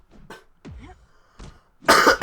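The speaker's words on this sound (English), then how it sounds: "my apologies for all the coughing" Several short coughs and throat sounds close by, spaced unevenly, ending in a louder, harsher burst.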